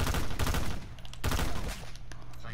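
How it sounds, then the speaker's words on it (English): Rapid bursts of automatic gunfire in a Black Ops 4 free-for-all match, loud and close, with a couple of clipped volleys separated by brief gaps. "I think only two bullets hit her on the second burst."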